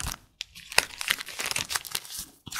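Paper gift packet being opened, crinkling and rustling in bursts with a few sharp crackles, close and fairly quiet, no talking.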